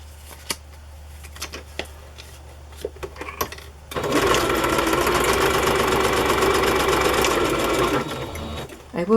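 A sewing machine stitches booklet pages, starting with a few scattered clicks and taps, then running in a loud, steady whirring burst for about four seconds before stopping.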